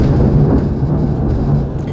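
Rolling thunder rumbles steadily throughout during a storm outdoors, a loud, sustained low roar with faint rain in the background and no speech.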